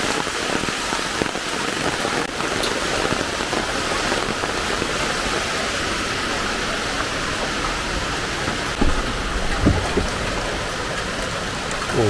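Heavy rain pours steadily outdoors, hissing on surfaces and trees with dense drops and a few louder gusts of wind, a constant close wash of sound with no talking.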